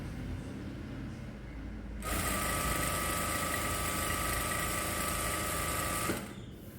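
Sewing machine running steadily while stitching the hem of a saree, a close, even mechanical whir that starts about two seconds in and stops near the end.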